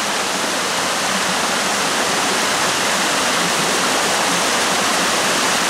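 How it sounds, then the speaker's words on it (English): A small waterfall on Falling Waters Trail in the White Mountains rushes in a loud, constant broadband roar that sounds close and steady throughout, with no voices. "Nice little waterfall off up in the distance."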